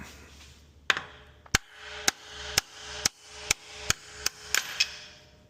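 Wheel studs are hammered out of a wheel hub in about ten sharp metallic blows, roughly evenly spaced and close up, each strike ringing briefly with no talk.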